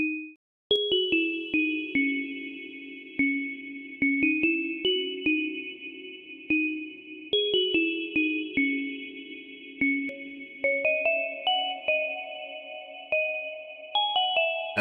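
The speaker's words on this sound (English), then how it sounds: "And that's how you make a bell." A synthesized bell patch built in Tone2 ElectraX with reverb plays a slow melodic sequence of clean, bright struck tones, each note pinging sharply and then ringing out into a soft decay, alone and without any talk.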